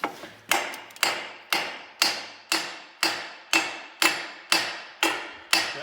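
Ball peen hammer tapping on a part of a Dana 44 front axle: about a dozen evenly spaced, ringing metallic strikes, close and steady, each decaying before the next, with no talk.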